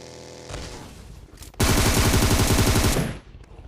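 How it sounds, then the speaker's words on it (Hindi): Automatic gunfire in the battle royale game PUBG Mobile: a brief shot early, then a loud, dense burst of rapid machine-gun fire lasting over a second before it cuts off, with no talk over it. "खैर इतने में ही पीछे गोलियां चल रही होती है।"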